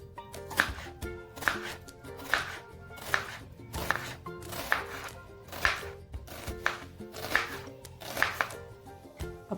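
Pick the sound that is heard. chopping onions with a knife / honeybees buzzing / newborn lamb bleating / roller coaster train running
chopping onions with a knife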